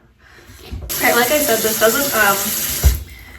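Tap water runs into a bathroom sink, a close steady hissing stream that starts abruptly and ends with a brief clunk.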